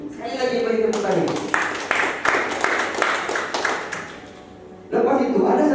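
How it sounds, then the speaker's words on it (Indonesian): Guests at a marriage registration ceremony clap in a short, close burst of sharp hand claps that rises and fades over a few seconds. Someone speaks just before the clapping and again right after it. "Sekali lagi beri tepuk tangan"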